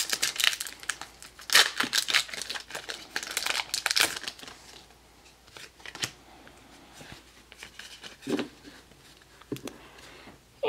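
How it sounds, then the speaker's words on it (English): A foil Pokémon XY Flashfire booster pack is torn open and its cards shuffled, with loud, close crinkling and tearing bursts at first, then softer intermittent rustles and card handling. "And got one last pack to open up today."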